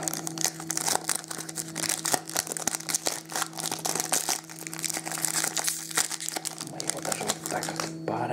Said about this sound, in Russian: Порвем пакетик.